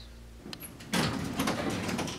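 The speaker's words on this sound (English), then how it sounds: "Hurry before the doors close again!" Sliding doors rumble and clatter shut after a brief mechanical click, a close, sustained rolling scrape that fills the rest of the moment.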